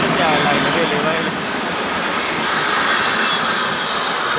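A fast train rushes past a station platform near Nashik, a loud, broad roaring whoosh of wheels and air that holds steady throughout.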